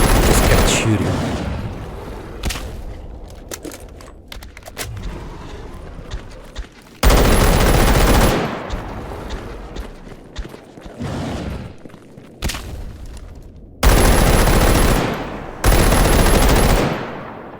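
Automatic gunfire in the video game STALKER Anomaly, loud sustained bursts of rapid shots with short pauses between volleys and scattered single shots, close and dominant throughout.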